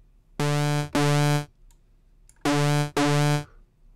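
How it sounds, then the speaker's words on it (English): A single oscillator in the Zebra software synth produces hard-sync tones, sounding as four bright, buzzy, harmonically rich notes in two closely spaced pairs, each held about half a second, loud and clean with no talk. "So you get these sync sounds out of a single oscillator"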